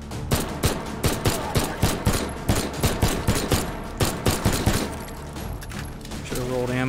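Rapid, steady gunfire from a PL-14 pistol in the VR shooter H3VR: a long string of sharp, closely spaced shots, loud and near, before the firing stops and a softer mechanical sound follows.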